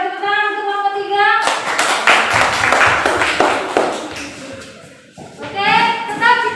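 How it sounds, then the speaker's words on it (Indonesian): A classroom of students claps for a group after their persuasive speech presentation, a burst of dense clapping lasting a few seconds between stretches of a voice. "beri tepuk tangan untuk kelompok 3"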